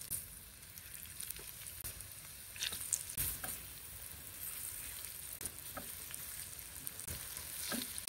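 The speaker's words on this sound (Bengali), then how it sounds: "আর দিয়ে দিচ্ছি সেই ওয়েস্টার মাশরুমগুলো।" Oyster mushrooms frying in butter in a pan, a soft continuous sizzle with scattered pops and crackles and occasional scraping of a utensil, fairly quiet and close.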